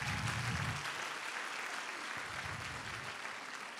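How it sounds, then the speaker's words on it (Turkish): Audience applause for students at a university fashion show, a continuous wash of clapping that is fairly faint and distant, holding steady throughout without voices. "Onlar için bir alkış alacağım."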